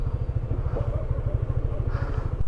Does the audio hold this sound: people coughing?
no